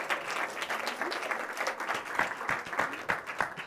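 An audience applauds at the end of a timed presentation before a jury, a steady round of clapping with some sharper individual claps standing out.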